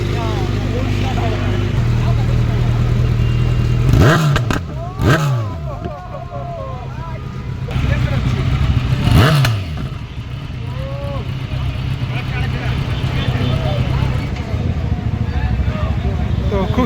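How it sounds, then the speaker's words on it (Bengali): Superbike engine revving in a street during a Sunday group ride, with sharp rising and falling throttle blips around the middle of the clip over a steady idle and traffic, while people talk throughout. "একটু সুপার বাইকের সাউন্ড বাই শুনে নেই"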